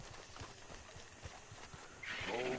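A horse in the video game Red Dead Redemption 2 trots with soft clip-clop hoofbeats at an even pace, moderately near, then a louder whinny-like burst near the end.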